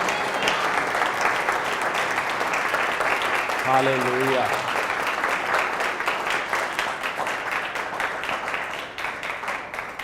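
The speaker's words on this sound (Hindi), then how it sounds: "प्रभु के लिए ताली बजाएं।" Congregation clapping at a church service: sustained, dense applause from many hands filling the whole stretch, with a brief sung or shouted voice rising over it midway.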